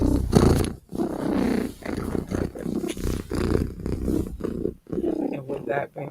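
A big cat's deep, rumbling purr, voiced by a person imitating it, rolls in loud, close, throaty bursts with brief breaks between them.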